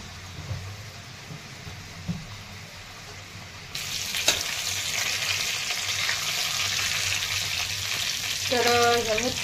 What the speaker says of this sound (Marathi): आणि आता हे तेलामध्ये टाकून घेते.